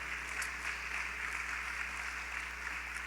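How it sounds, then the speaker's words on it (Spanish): Church congregation clapping during a Spanish-language service, a soft, even wash of many hands heard from a distance over a steady low electrical hum. "Dale fuerte el aplauso"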